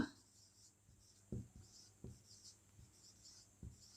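Handwritten lines on paper during a Bengali-to-English translation lesson, a quiet scratching of pen strokes with a few sharper taps, faint and close, with no talk over it.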